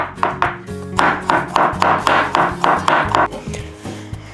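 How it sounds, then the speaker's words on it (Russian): A knife finely chops a head of garlic on a board in a home kitchen: a quick, even run of about a dozen sharp, close taps, slowing near the end, with no talk. "Тут у меня 1 головка чеснока. Мелко его нашинкую."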